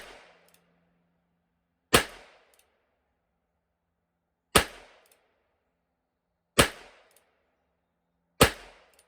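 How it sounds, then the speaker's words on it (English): Revolvers fired one at a time at a shooting range, four sharp, loud bangs spaced about two seconds apart, each with a short ringing decay and quiet gaps between. "they all go bang in a revolver"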